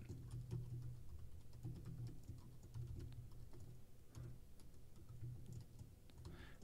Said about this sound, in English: Then I'm going to type in a paragraph that just says